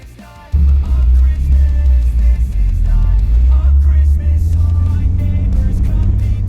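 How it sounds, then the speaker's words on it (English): Jeep engines roar loud and close while bogging through a steep trail's deep mud pit, the revving holding a sustained heavy drone after a sudden surge near the start. "all I could hear were rev limiters being hit as they bogged through a particularly steep valley"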